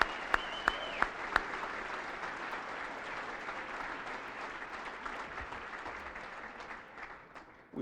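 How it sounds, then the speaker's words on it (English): An audience at an awards evening applauds its honorees in a steady, fairly distant wash of many hands, opening with a few sharp isolated claps up close and gradually thinning toward the end. "How about a round of applause for all of our honorees this evening?"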